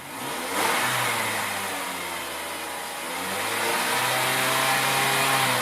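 A 2004 Mazda 6 with a 2.3L engine starts up and runs steadily, then revs, its medium-pitched drone close and fairly loud with rising and falling pitch and no one talking.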